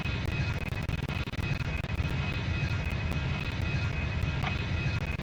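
A321 jet engines in flight in the Extreme Landings flight simulator game, a steady, dense cabin roar with constant low rumble and broadband hiss throughout, no talking.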